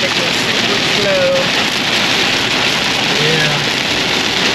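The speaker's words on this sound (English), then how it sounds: "Okay, so rain it is. Still raining." Rain drums steadily on an RV driving along flooded Texas roads in slow traffic, a dense, loud, continuous hiss with no break.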